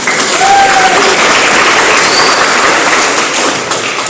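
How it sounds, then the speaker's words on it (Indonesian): Audience applause during a school study tour, a dense, continuous wash of many hands clapping loudly from start to finish and fading slightly at the end, with no talk over it. "Ya Allah, tepuk tangan."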